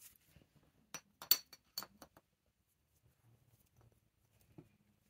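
A glass protector is fitted onto a miner's safety lamp, type MC 40, making a cluster of small close clinks and taps followed by quieter handling noises.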